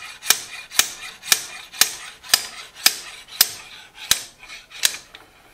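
A fuel injector is knocked loose from the cylinder head of a 2005-2010 Jeep Grand Cherokee CRD diesel with a slide hammer: about ten sharp metallic impacts at a steady half-second rhythm, close and distinct.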